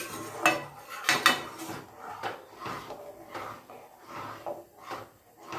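Thickening mango sweet mixture stirred in a pan on the stove, a series of close scraping strokes with metallic clinks of the spoon against the pan, uneven in rhythm, with no talk.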